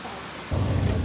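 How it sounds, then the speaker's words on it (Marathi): Heavy rain pours down, first a moderate wash that abruptly swells halfway through into a loud, dense, steady roar. "आणि पाऊस एवढा पडतोय."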